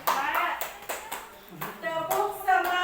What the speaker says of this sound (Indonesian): baiklah kita akan tepuk semangat lagi